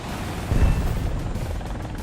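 Mi-24 helicopter in War Thunder, a low rumbling rotor and engine drone with a brief heavier thump near the start, steady and fairly loud, no talking.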